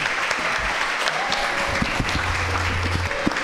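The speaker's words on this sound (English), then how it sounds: "Please, let's give them a round of applause." Audience applause for two authors at the close of a book talk, a steady dense wash of clapping with a low hum underneath and a few sharper close claps.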